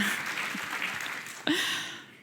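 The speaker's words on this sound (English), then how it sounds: "let the people clap" An audience at an economic forum claps in a brief round of applause, a dense wash of hands that swells, dips, then fades out, with a faint voice cutting in partway.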